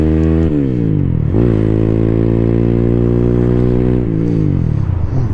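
A 2024 Freedom Fighter 200 EFI motorcycle engine on a ride with a 256 lb rider, loud and close, steady droning with two revs climbing then settling into a sustained cruise.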